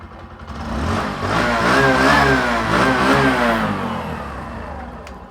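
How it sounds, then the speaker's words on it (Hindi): Bajaj Platina 100 motorcycle engine running steadily at idle, a close, continuous mid-pitched engine drone that swells slightly in the middle with no one speaking. "सबसे पहले तो प्लेटिना 100 को स्टार्ट करते हैं। सिंगल अटेम्प्ट में ये बाइक स्टार्ट हो जाती है।"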